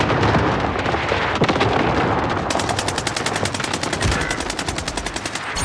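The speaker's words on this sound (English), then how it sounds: "Allied cluster strike inbound." Cluster strike explosions in the Call of Duty Modern Warfare video game, loud and continuous rapid detonations rattling close together like heavy gunfire, getting denser and more regular partway through.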